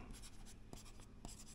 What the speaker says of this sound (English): let's try to write something